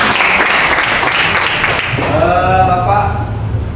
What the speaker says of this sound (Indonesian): Betul ya, tepuk tangan ya.